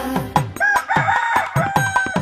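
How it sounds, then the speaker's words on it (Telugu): A rooster crows in a children's nursery rhyme, its cock-a-doodle-doo calls rising and falling in a near, loud sequence with a few clucks, heard alone without talk. "కొక్కొరో కోయని కోడి కూయంగా"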